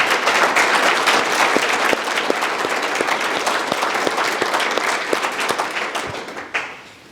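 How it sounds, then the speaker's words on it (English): Sustained applause from an audience at a rural fire department awards ceremony, loud and steady from many hands before tapering off at the end, with no talk over it. "So, round of applause."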